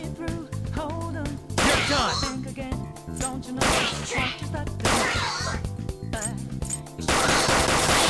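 Gunfire in the video game Persona 5 Royal, loud rapid bursts of automatic shots in several long volleys separated by short pauses, with game sound effects mixed in.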